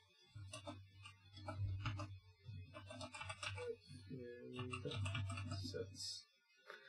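Rapid typing on a computer keyboard during a web design coding session, with bursts of clicky keystrokes broken by short pauses, heard close under quiet conversation.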